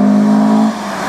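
A Gitane Rover race car on a sports car racing stage holds a loud, steady engine drone close by for most of a second, then the note drops away and fades.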